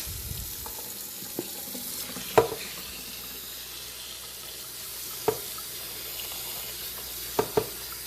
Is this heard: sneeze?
no